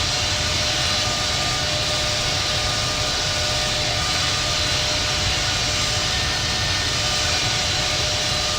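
A Boeing 777-200 in Infinite Flight roars through a takeoff run with a dense, unbroken jet engine rumble and hiss, loud and steady, with no voices.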